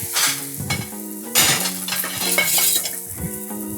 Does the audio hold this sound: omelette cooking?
yes